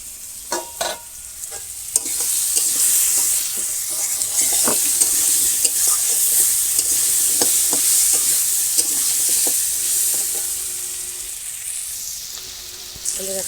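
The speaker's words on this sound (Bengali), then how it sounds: "এখন আলুটা লাল লাল করে ভাজবো।" Potatoes and cauliflower fry in hot oil with salt and turmeric in a village kitchen, a steady dense sizzle running throughout, broken by scattered clicks and scrapes of a spoon stirring the pan.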